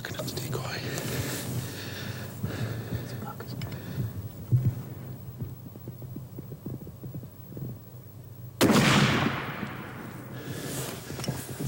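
A single sharp rifle shot cracks out during a Michigan deer hunt, loud and sudden, then decays into the quiet woods after a stretch of hushed whispering and low background hum.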